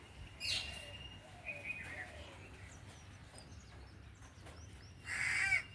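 Crows caw from a rooftop garden at sunrise over a quiet background: a short call early on, a few fainter calls in the middle, then a loud, close burst of cawing near the end.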